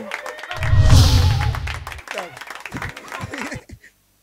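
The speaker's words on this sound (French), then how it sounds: "On applaudit pour trône du rire, on applaudit encore" A comedy show audience at Trône du Rire claps and laughs in a brief loud burst, then fades into scattered claps and chuckles as a voice talks over it.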